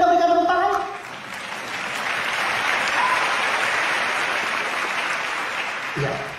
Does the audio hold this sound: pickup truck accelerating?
no